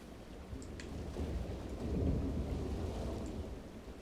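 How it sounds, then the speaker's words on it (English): Thunder in the Planet Coaster 2 video game, a low rolling rumble that swells and fades over several seconds with rain hiss behind it and no talking. "I feel like I might hear thunder again,"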